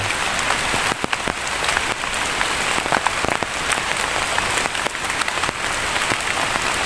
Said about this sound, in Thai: ก็ฝนยังตกอยู่นะ